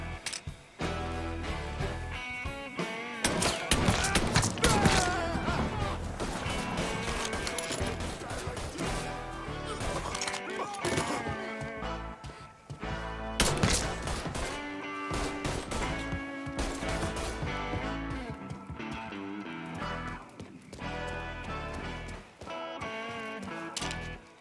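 Chaotic gunfight in Mafia 3, with loud cracks of gunshots, smashing impacts and bursts of fire scattered irregularly over a busy game soundtrack, some shots sharp and close, others spaced apart.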